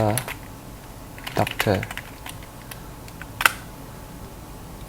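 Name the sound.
typing on a computer keyboard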